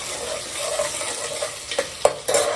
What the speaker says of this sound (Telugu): ఒక్కసారి తిప్పుకొని